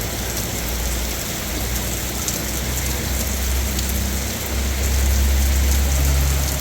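Heavy rain pours steadily in Jeddah, a dense continuous hiss of drops drumming on surfaces with a low rumbling undertone, loud and close throughout without any talking.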